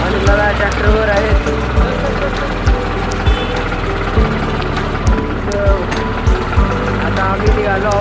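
A farm tractor engine running on the road to the fields, chugging with a loud, regular low knock repeating about once a second under a constant mechanical rattle.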